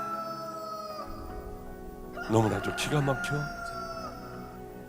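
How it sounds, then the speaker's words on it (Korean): A rooster crows amid the spoken words of a Korean sermon, its voice rising near the middle of the passage and continuing over the preacher's voice rather than standing alone. "바로 닭울음 소리가 들려요."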